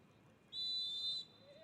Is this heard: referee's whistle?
yes